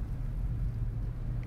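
A car driving in the Farmer's Dynasty farming video game gives a steady, low engine rumble with no breaks or shifts, heard close and continuous.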